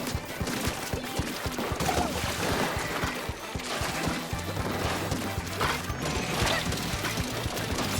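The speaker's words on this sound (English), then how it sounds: "That's 90 damage from those 3 arrow explosions." Arrow explosions in the Splatoon video game during a competitive tower match: a dense, loud wash of crashing, splattering blasts and rapid mechanical clatter, sustained throughout with no pause.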